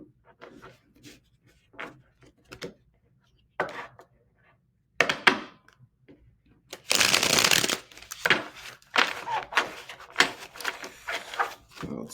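Tarot cards are shuffled close by in a series of riffles and flutters that grow into a long, dense shuffling burst, then a couple of cards drop loose, with short soft taps and pauses between bursts.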